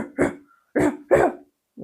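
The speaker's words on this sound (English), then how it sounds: "Dog. The dog says" A dog gives three short, close barks with brief pauses between them, then the start of a fourth.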